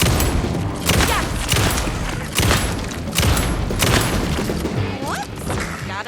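Repeated gunfire from the Alan Wake 2 Night Springs DLC on PS5, with loud bursts of shots and impacts at irregular intervals over a dense game soundscape, broken by short lulls.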